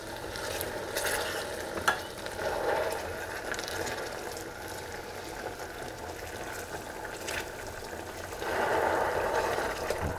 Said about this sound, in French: Le sirop au rhum est chaud, on vient le verser sur le gâteau.